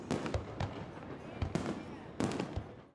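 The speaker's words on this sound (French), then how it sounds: "l'incontournable concours international de feux d'artifice pyromélodique organisé par la mairie se poursuit" Fireworks at an international pyromelodic fireworks competition over the port of Monaco, with several sharp bursts and crackling booms spread over a few seconds against a steady background rumble, fairly distant.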